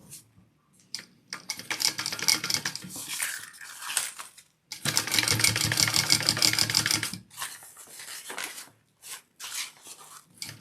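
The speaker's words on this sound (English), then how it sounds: "we need to top stitch this other side" A sewing machine top stitches a wallet in rapid, rattling bursts, running several seconds at a time with short pauses between stitching runs, close and fairly loud.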